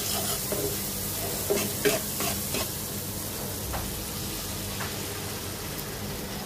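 A spoon stirs and scrapes a sizzling spice paste for koi fish curry in a pan, a steady frying hiss with a few louder scraping strokes near the start, close by and with no talking.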